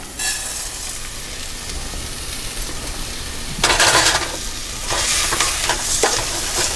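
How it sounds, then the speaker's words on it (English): Rice fries in a hot pan with garlic as a spoon stirs it, giving a steady sizzle with louder bursts of scraping and stirring, close and without speech. "Stir the rice until opaque in color"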